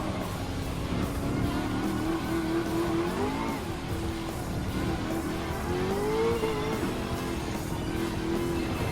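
Race cars in a Gran Turismo 7 Pan-American Championship race, including a fourth-generation Corvette, roar with steady engine drone, shifting revs and tire squeals, continuous and moderately loud.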